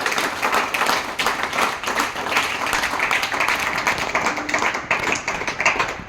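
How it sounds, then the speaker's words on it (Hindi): A crowd at the final of a memorial cricket tournament breaks into loud, close clapping that runs steadily for around six seconds, with sharp individual hand claps standing out from the dense applause and no speech on top. "उनके लिए भी जोरदार तालियां चाहूंगा।"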